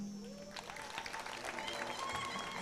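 Audience applause at a university graduation ceremony in Kampala, a steady wash of many hands clapping at moderate distance, with voices murmuring underneath.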